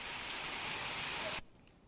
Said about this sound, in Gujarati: પવનની સાથે ધીમી દારે આ શિહોર તાલુકામાં વરસાદ છે